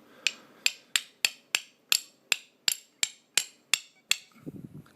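A hammer taps a firing pin into the slide of a Ruger LCP pistol, eleven sharp metallic strikes at an even, steady rhythm, close and clear, followed by a short rustle.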